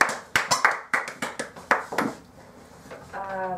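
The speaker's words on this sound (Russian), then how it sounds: "Давайте, Настя, аплодисменты" Sparse handclaps from a small group at a public speaking class, distinct individual claps in an uneven rhythm for about two seconds, then quiet, with a voice starting at the end.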